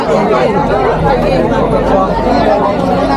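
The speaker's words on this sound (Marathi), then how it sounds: "मित्रांनो गर्दी बघा गर्दी बघा केवढी आहे" Dense crowd chatter at Pavagadh Mahakali temple in Champaner, Gujarat: many overlapping voices forming a loud, steady babble close around, with no pauses.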